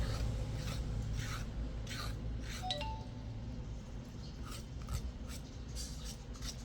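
A knife scrapes the thin skin off a fruit in steady, close rasping strokes that repeat in short bursts, with a brief faint clink partway through.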